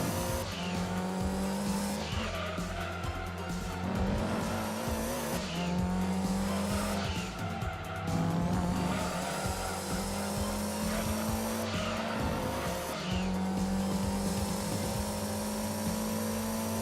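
A Toyota Supra race car in Gran Turismo 2, a loud continuous engine roar that rises and drops through gear changes, with repeated tire squeals through the corners, dense and constant with no voices.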